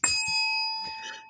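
A timer bell rings once with a bright, sustained metallic ring that slowly fades, with faint voices murmuring underneath.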